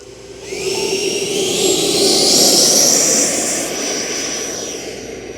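An E-flite 90mm Viper RC jet takes off from a runway with a loud, steady electric-ducted-fan whine that swells and peaks mid-clip before easing slightly as it climbs away, no talking.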